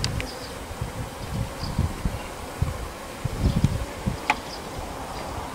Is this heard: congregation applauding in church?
no